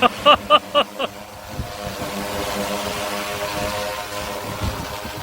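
An agricultural pesticide-spraying drone flies close by with a steady, dense rotor whine and roar that holds across the whole stretch, preceded by a few sharp knocks at the start.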